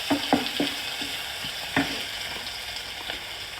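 Onions frying in a pan for a thukpa, a steady close sizzle with a few scraping stirs near the start and again partway through.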